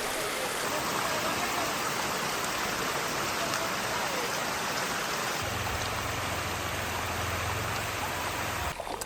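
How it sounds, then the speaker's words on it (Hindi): A waterfall at Tamhini Ghat in the Kundalika Valley pours down from above, producing a steady, dense, hissing rush of falling water that stays even and fairly loud, with a low rumble entering partway through. "वाटरफॉल ऊपर से आ रहा है"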